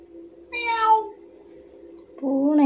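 A cat meows twice indoors, a drawn-out mid-pitched cry followed by a second rising one near the end, fairly close and clear over a faint low hum.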